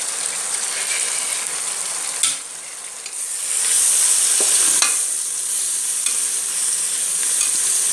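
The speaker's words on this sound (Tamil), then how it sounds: "இனி இதில் கழுவி வச்சுருக்கிற புதினா இலையை போட்டுக்கலாம்." Mint leaves tossed into hot oil with ginger garlic paste for coconut milk rice, giving a steady close sizzle and frying hiss with a few stirring scrapes, no talking.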